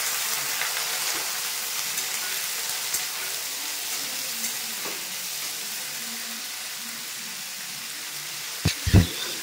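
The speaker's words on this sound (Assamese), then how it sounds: "এয়া আলু আৰু ডাটাখিনি অকণমান ভাজি লওঁ" Potatoes and green stalks fry in a pan with a steady, even sizzle close by throughout, and a couple of brief knocks near the end.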